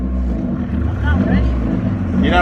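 A manual Honda Civic pulls away in first gear, its engine droning steadily louder and rising in pitch close by, with people talking over the noise.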